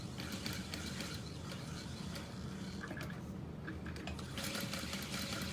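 Sewing machine stitching layered fabric for a structured tote bag, a steady close mechanical whir with faint ticking and clicking, running alone without speech.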